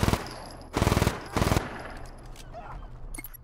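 Rapid gunfire in Just Cause 3 comes as three loud, tight automatic bursts, each lasting under a second, with quieter game ambience between them.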